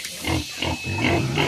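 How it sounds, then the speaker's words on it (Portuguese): Pigs on a farm grunting in a quick run of short, low, nasal grunts, close and loud, with no talk over them. "Qual o nome dos porcos?"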